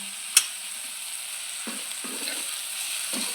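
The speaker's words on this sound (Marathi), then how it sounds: "कमीत कमी चार ते पाच मिनिट मध्यम गॅसवर आपल्याला हा कांदा परतून घ्यायचा आहे" Sliced onion cooking with salt in a pan over a medium gas flame: a faint, even sizzle with one sharp tap early on and a few soft stirring scrapes.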